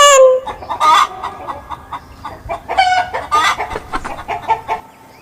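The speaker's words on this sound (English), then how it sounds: "H for hen." A hen clucks in a quick, fairly loud series of short, choppy calls close by, alone without any talking.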